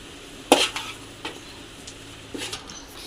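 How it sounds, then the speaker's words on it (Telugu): Egg fried rice being stirred in a kadai, giving a sharp metallic scrape of spoon on pan followed by a few softer scraping strokes over a faint sizzle, with no talking. "ఇప్పుడు మళ్ళీ మిక్సింగ్ ఫ్రెండ్స్."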